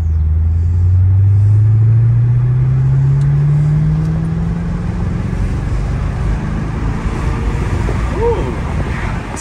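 A Mercedes SL500 with a Lorinzer kit accelerates on the road, its engine drone climbing steadily in pitch over the first few seconds before settling into a rumbling cruise under heavy wind and road noise, heard from inside the car.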